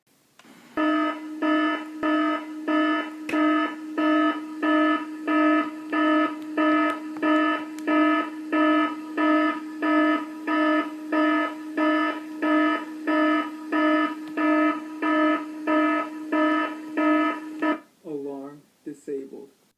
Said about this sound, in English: Room 3 alarm activated.